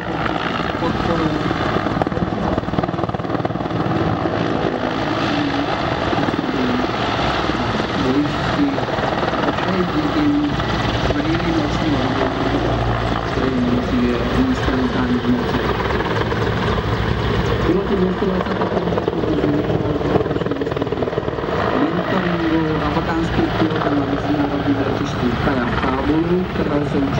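A Mil Mi-24 Hind helicopter flies at the NATO Days 2014 air show, a loud continuous rotor thrum and turbine roar that holds steady throughout, with crowd or commentary voices blended underneath.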